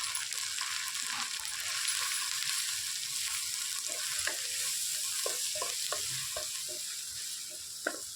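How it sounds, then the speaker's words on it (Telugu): Curry leaves and turmeric tempering in hot oil for a cabbage fry, a steady sizzle and crackle with the scrape and clink of a spoon stirring through it, close and continuous. "తాలింపు ఇట్లా వేగిపోయింది కదా"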